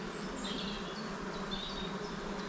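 Bees drone around an open hive being inspected for an artificial swarm, a soft steady buzz with faint high whines drifting past, no voices.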